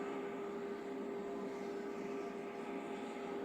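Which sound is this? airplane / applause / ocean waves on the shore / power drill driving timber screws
airplane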